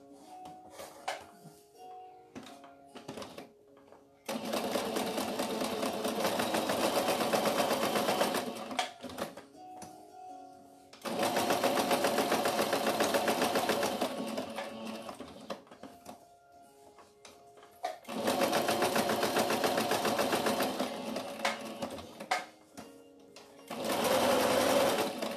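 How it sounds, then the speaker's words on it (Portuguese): A sewing machine runs in three long bursts of steady, rapid stitching, each several seconds, sewing along a marked line on the square fabric bow of a cloth baby doll, with short quiet handling gaps between runs. "Esse aqui a gente vai costurar em cima do risco esse quadrado aqui do laço"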